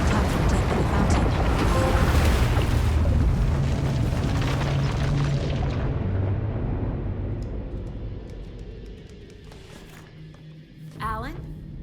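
Diving into a fountain in Alan Wake 2: a loud, broad rushing splash that swells and then slowly fades, with a short watery burble near the end, heard alone without talk.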